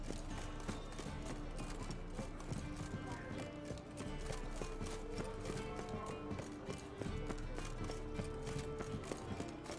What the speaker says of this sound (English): My horse is still here from last time.